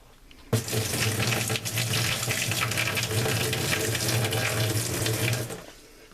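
Clorox bleach poured into a washer sump, a steady splashing gush of liquid that starts abruptly, runs evenly for about five seconds and then stops, close and fairly loud with no talking.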